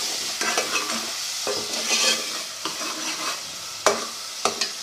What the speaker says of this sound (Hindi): ये हमने मसाले डाल दिए, फ्राई कर लेते हैं।